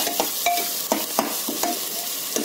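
A spoon scrapes and stirs jackfruit in a pan where onions are frying, giving repeated sharp clinks and scrapes over a soft, steady sizzle, close up with no talking.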